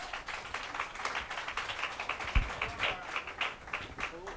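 Audience applause at a talk on relationship basics: a steady mix of many hand claps, moderately loud, continuing throughout with a murmur of voices beneath.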